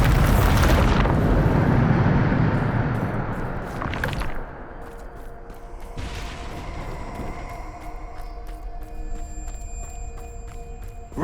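A spell explosion cast in Hogwarts Legacy: a loud burst opens the clip, followed by two shorter blasts about two and four seconds apart, then fading rumble and faint tonal hum.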